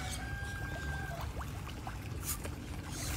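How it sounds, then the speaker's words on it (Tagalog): Water from the town supply runs steadily at a farm hut in the morning, a continuous close rushing and trickling with a few faint clinks and no voices. "may sariling tubig na umaagos galing nawasa"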